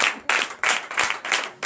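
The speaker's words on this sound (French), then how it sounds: "Donnez l'acclamation à Jésus" Clapping in acclamation during a French-language morning prayer service in Benin, a short burst of sharp rhythmic group handclaps in quick regular beats, close and fairly loud, with no speech over it.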